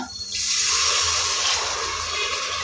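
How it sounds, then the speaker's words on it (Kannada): Water poured steadily into a pot of cooked masala for kuska rice, a continuous loud rushing pour that starts abruptly and runs on alone. "ಇವಾಗ ನಾವು ಅನ್ನಕ್ಕೆ ಎಷ್ಟು ಬೇಕು ಅಷ್ಟು ನೀರು ಹಾಕ್ಕೊಳ್ಳೋಣ"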